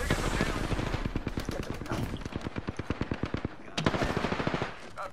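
Rapid automatic gunfire in a video game rattles in steady bursts with a brief pause, then resumes, loud and close, a voice faintly mixed in.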